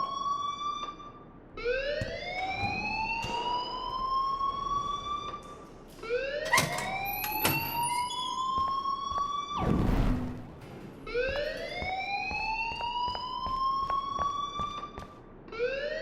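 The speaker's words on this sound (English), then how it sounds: "please turn off that alarm since that's your job" An alarm blares in the video game Life Is Strange, a loud rising wail repeating in sweeping cycles that fills the scene without talk.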